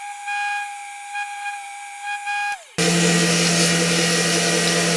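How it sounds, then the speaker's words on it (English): Wooden pizza cutter handle spinning on a lathe and being sanded at the tail end: a steady motor whine with faint intermittent rubbing, then an abrupt jump to a loud, dense, continuous grinding hiss that holds to the end. "Sanding up this end here so I can get it good and rounded."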